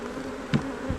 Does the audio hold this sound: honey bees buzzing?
yes